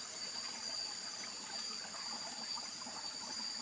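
Clear stream water from Banahaw trickles and burbles steadily over large rocks in a continuous, soft, close wash with no break.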